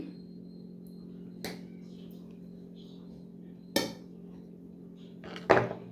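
A knife slices through a soft eggless chocolate banana cake, giving three distinct clinks and taps against a plate or pan, spread across a quiet kitchen background.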